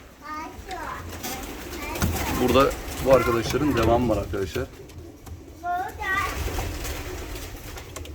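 Pigeons coo in soft repeated calls while someone talks over them, with more cooing coming through in the quieter gaps.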